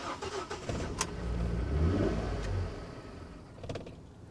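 A car engine with a suspected boost leak cranks and catches, revving unevenly at mid pitch before faltering and dying away; a sharp click or two punctuates it, close by with no talk.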